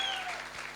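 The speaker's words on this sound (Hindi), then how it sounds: "एक बार जोरदार तालियां" Energetic applause from a seminar audience at a motivational talk, a dense steady wash of clapping filling the whole stretch with no voices over it.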